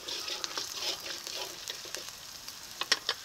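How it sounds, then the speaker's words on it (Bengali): Fried onion and slit green chillies sizzle in a hot pan, a close, steady crackling fry stirred now and then with sharp clinks of a spatula against metal. "পেঁয়াজটাকে যে ভেজে নিয়েছি, এখন দিয়ে দিচ্ছি কিছু চেরা কাঁচা লঙ্কা"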